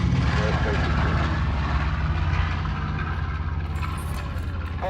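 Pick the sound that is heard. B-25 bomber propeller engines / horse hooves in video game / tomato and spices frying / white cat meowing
B-25 bomber propeller engines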